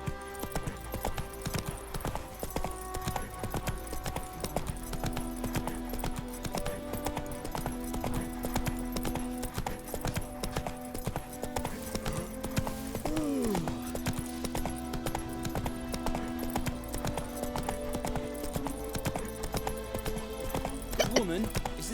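Roach the horse trots in the video game The Witcher 3, hooves clip-clopping in a steady rhythm under game music, a brief whinny partway through, and voices talking over it.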